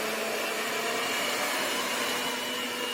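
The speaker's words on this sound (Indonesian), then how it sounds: "Nah ini dia untungnya pakai mixer biasa." An electric hand mixer runs steadily at close range while mixing oatmeal cookie dough, producing a constant, loud motor whine with no pauses.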